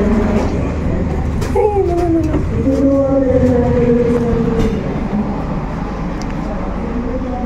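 Inside the Bima executive-class passenger train running from Gambir to Surabaya Gubeng, a loud, steady rail rumble continues throughout, with drawn-out wheel squeals rising above it and faint voices in the background.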